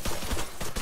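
Rapid gunshots in the Arma 3 Altis Life game, a short burst of several loud, closely spaced reports with no talking.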